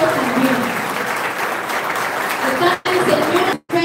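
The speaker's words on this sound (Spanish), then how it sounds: "para que un fuerte aplauso a este proyecto" Strong, dense applause fills the room at a campaign office inauguration in Santo Domingo Oeste, loud and sustained with crowd murmur, cutting off abruptly twice near the end.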